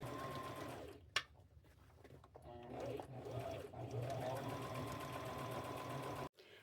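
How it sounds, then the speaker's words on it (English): Sewing machine stitches sheet fabric onto a jacket in a steady close mechanical whir with rhythmic needle chatter, running for several seconds before stopping abruptly. "I'm just going to sew it upside down"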